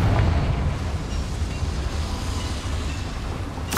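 A Confringo blasting spell goes off in Hogwarts Legacy, a heavy rumbling explosion that roars loud and close, then fades into a long low roll before a brief crackle at the end.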